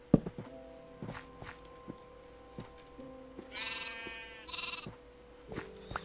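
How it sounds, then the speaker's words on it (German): Sheep in Minecraft bleat twice in short, wavering calls against a scatter of soft blocky footstep thuds and clicks, with quiet gaps between the game sounds. "Mit Brot lässt sich das Schaf natürlich nicht locken."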